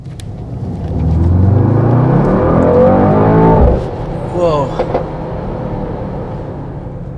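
A 2019 Mercedes-AMG GT63S 4-door coupe with 4MATIC+ and 639 horsepower revs loudly and close by. The exhaust note climbs for a few seconds, cuts off, gives a quick second blip, then settles back to a low idle.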